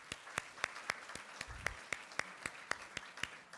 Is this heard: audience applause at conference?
yes